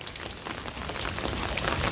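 Steady rain falls outside a home, a dense, even hiss of drops striking surfaces that holds without a break, with no voices.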